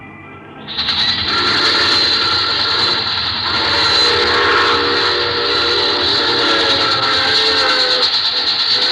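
A train rumbles steadily close by, with a sustained high whistle-like tone riding over the rolling noise throughout.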